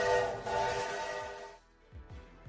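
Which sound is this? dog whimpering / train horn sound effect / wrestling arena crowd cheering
train horn sound effect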